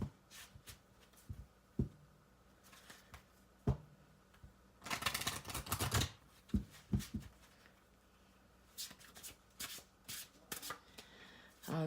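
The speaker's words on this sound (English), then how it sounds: "This deck is so hard to shuffle." Tarot card deck being shuffled by hand, close and quiet, with soft scattered flicks and rubs and a denser riffling burst in the middle, no talk.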